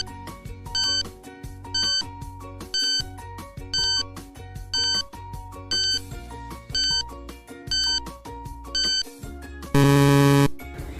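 A quiz countdown timer plays a repeating electronic jingle, with regular bright beeping tones roughly once per second over a bass pulse, ending in a louder buzzer-like burst near the end, with no talking.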